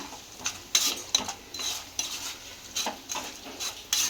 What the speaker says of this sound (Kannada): ಇವಾಗ ಒಣ ಕೊಬ್ಬರಿ ಸಣ್ಣಕ್ಕೆ ಉದ್ದಕ್ಕೆ ಹೆಚ್ಚಿರೋದು, ಅದನ್ನು ಫ್ರೈ ಮಾಡ್ಕೊಳ್ಳೋಣ.